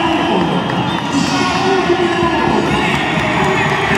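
A stadium crowd at a Girabola football match between 1º de Agosto and Libolo cheers and applauds in a broad, continuous roar, with a commentator talking over it throughout.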